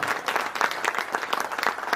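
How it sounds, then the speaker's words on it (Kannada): Audience applause rings out in sustained, dense clapping, fairly near and loud, continuing steadily throughout without pause. "ಚಪ್ಪಾಳೆ ಹೊಡೀರಿ. ಈ ಧೀರ ಯೋಧರಿಗೆ ಹೊಡಿಬೇಕು ನಾವು."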